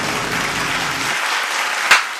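A short burst of applause-like clapping in a podcast setting fills the first second, then drops off, followed by a single sharp clap or knock near the end.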